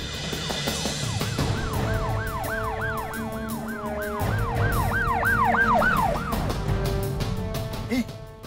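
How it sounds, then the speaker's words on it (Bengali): A police car siren closes in from behind with a loud, steady, repeating wail over traffic rumble. It fades near the end. "পুলিশের গাড়ি আইতেছে তুমি তাড়াতাড়ি চালাও"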